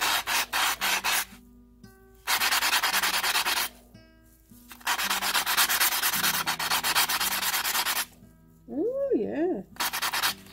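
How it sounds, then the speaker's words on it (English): A copper electroformed epoxy bead is sanded by hand in several loud, raspy bursts of a few seconds each. Short pauses separate the bursts, and a voice speaks briefly near the end. "Now that sands, that takes a bit of the copper with it too, though."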